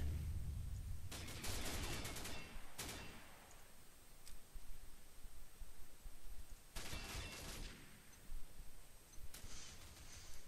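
In the shooter Combat Arms, rapid gunfire comes in two dense automatic bursts a few seconds apart, loud and crackling, with scattered single shots and quieter stretches between them.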